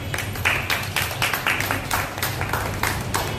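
An audience at a Warkari literary council anniversary gathering in Barshi applauds Dome Maharaj during his felicitation, a loose, uneven spatter of claps rising and falling in irregular bursts, moderately loud, with a faint low background hum.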